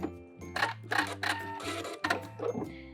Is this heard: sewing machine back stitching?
yes